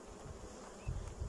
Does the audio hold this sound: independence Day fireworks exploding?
no